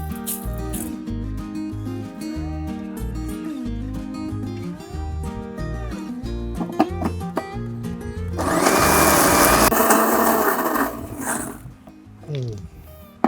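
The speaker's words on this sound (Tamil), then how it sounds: "நல்ல மைய இதை அரைஞ்சிருச்சு." A mixer grinder grinding red chilli masala into a fine paste, a loud coarse whirring roar that swells for several seconds and then cuts off, heard after a long stretch with background music.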